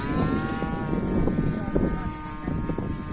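A DLE 20cc gas engine powers an RC warbird Zero 60 model plane flying on a windy day. The engine gives a steady buzzing drone throughout, rising and falling slightly as the plane passes overhead.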